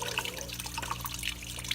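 Coolant draining from the radiator of a Mercedes SL55 AMG into a bucket, a steady close trickling and splashing of liquid with no voices.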